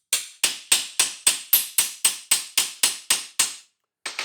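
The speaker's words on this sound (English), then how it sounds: "Now we're going to hammer over the outside." A doming or embossing hammer strikes the outside of a metal sword hilt about a dozen times, sharp and evenly spaced, each ringing briefly, then a pause before one more close, loud blow.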